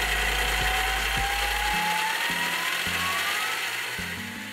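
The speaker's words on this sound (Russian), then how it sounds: "опять разочарование в цепной передаче, ведь она очень шумная" Homemade all-terrain vehicle built from an Oka car, its noisy chain drive giving a loud, continuous mechanical clatter and ratcheting whir, close and steady throughout with no voices.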